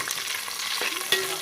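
Green chilies fry in hot oil in a pan for a white chicken kurma, a steady close sizzle with light scraping of stirring and a few sharp pops.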